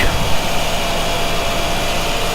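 Racing car engine at high revs accelerating down a straight at Spa in the Need for Speed Shift video game, a steady, loud, dense whine and roar with no breaks.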